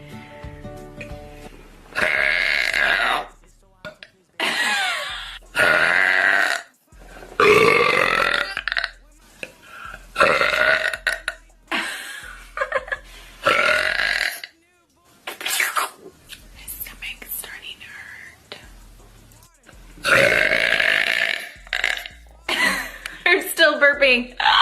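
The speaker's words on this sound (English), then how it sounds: "I'm still burping." A woman burps again and again in loud, drawn-out belches, with short gaps between them, across the whole stretch. Some bursts are rough and croaky and sound a little like bleating. Close and dry, with no other voices.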